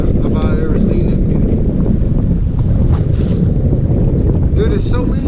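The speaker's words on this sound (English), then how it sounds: "It's windy, it's blowing 15 to 20, gusts to 25 to 30 today." Strong wind blowing 15 to 20 with gusts to 25 to 30 roars steadily over the microphone on a fishing boat at sea, loud and constant, with voices talking faintly underneath.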